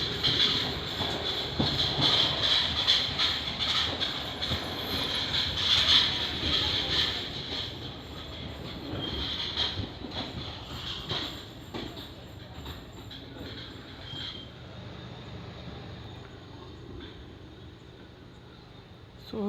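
The Koyna Express pulls out of Hatkanangale station with a steady rolling rumble, rhythmic clickety-clack and a high metallic wheel squeal from onboard, fading gradually over time.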